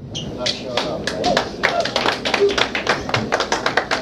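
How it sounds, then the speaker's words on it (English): Sparse clapping from a small early audience at a live club concert by a Nashville band, scattered individual claps over several seconds with a voice talking over them. "That was a smattering of applause."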